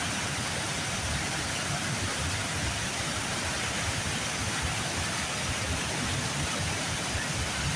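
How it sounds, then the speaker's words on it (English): Water roars over a waterfall below a beaver dam with a dense, unbroken hiss and rumble. The sound is steady and moderately loud, with no voices. "You hear the roar of the water."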